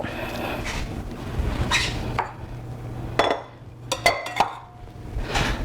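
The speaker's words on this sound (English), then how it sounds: "You need a rubber spatula or a spoon if you have it handy, and just make sure you get all this great stuff into your pie crust." Apple pie filling being scraped from a bowl into a pie crust with a rubber spatula or spoon, giving soft scrapes and several clinks of utensil against dish, close and without speech.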